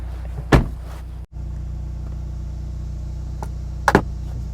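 Mercedes-AMG C43 at idle, with a steady low engine hum throughout. A sharp thump near the start is likely the door shutting, and brief clicks and rustles come later. No voices.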